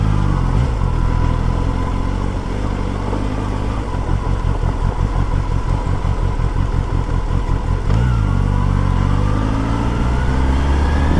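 A motorcycle held in first gear on a rough, broken road drones loudly and continuously up close, its engine note rising and falling slightly with a rattling, pulsing undertone.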